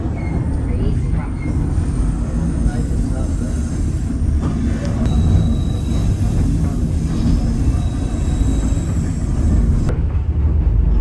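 A continuous loud rumble of a train rolling along the track near Skagway, running right against granite rocks, with faint squeals and a voice speaking over the noise.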